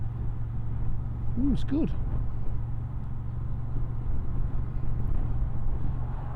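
A 2023 Honda XL750 Transalp motorcycle cruises in third gear at about 25 to 30 mph, with a steady low engine drone and wind rush throughout. A rider briefly speaks over it.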